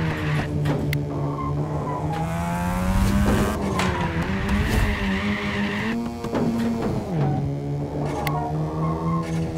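A Mazda RX7 drag car in the racing game Apex Point runs hard, its engine droning and shifting pitch while tires squeal and skid continuously as the car slides sideways, loud and close.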